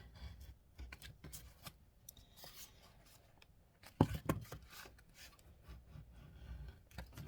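Laminated cardboard cut through with a sharp knife, heard as quiet, close scratchy scraping strokes with one sharper rasping pass partway through and no talking.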